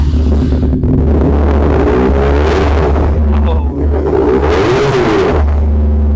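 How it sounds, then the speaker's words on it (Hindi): A heavy dual-cylinder motorcycle engine idles with a deep, steady rumble and rises into a couple of throaty revs at a Karachi bike market, close and loud throughout. "ये है डुअल सिलेंडर, इसका साउंड"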